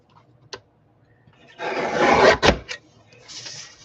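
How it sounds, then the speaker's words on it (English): A sheet of 110-pound 8.5 by 11 cardstock is trimmed down to about 3 inches: one sharp tick, then a sustained, close rasping slice that ends in a firm clack, followed by softer shuffling. "I'm just going to cut it down to about 3 inches"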